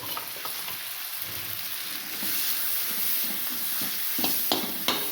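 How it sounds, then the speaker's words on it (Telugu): Onions and ginger garlic paste frying in butter in a pan for cauliflower rice, a steady close sizzle with occasional clinks and stirring taps, no talking. "సో ఈ బటర్లో కొంచెం ఆనియన్స్ వేసుకుందాం. నెక్స్ట్ కొంచెం జింజర్ గార్లిక్ పేస్ట్"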